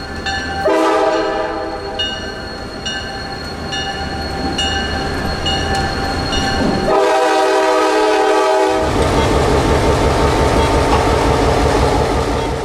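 A CSX freight train rumbles by on street-running track in Florida with a steady heavy rolling noise and clacking wheels, punctuated by long blasts of its horn.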